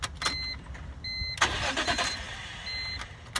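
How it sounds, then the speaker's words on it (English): A BMW Z4 M engine cranks briefly and fires into life with a loud roar, then settles into a steady idle close by. "One of my favorite things about BMWs is the way they sound when they start."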